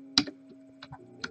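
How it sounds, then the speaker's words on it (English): A few sharp keyboard clacks, quick and uneven, close up over a faint steady electrical hum. "my keyboard's really loud too"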